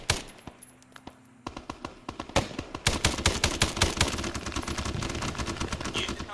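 Rapid bursts of machine gun fire in ArmA 3, a jungle combat scenario with Australian forces, starting sparse and building into dense, loud, sustained automatic shooting with overlapping rattling shots.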